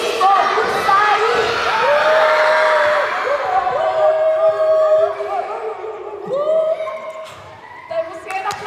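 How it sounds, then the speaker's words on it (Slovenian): Children's voices chant together and shout at a pirate character during a children's theatre show of Pippi Longstocking and a pirate, a dense crowd of young voices that swells, then tapers into scattered shouts. "Hej, haj, mi smo gusari, na koncu pa proti gusarju en velik bu"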